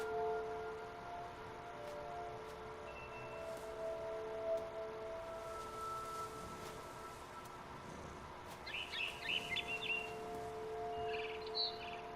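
A barn swallow chirps outside a window in What Remains of Edith Finch, a brief cluster of quick high twitters partway through over a quiet ambient drone.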